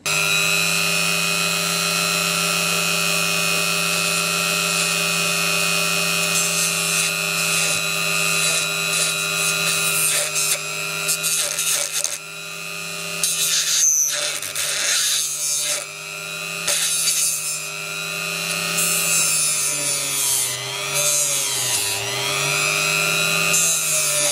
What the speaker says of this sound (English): I will skim this wooden burr that I made. I skim it out to remove all the grit